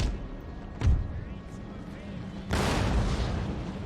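Cannon artillery firing in Empire: Total War, a sharp boom followed a couple of seconds later by a heavier, longer blast with rumbling tail.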